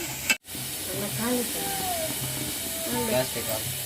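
Steam hissing steadily from an idli steamer on a kitchen stove, a continuous breathy rush interrupted by a brief pause, with a voice speaking over it throughout.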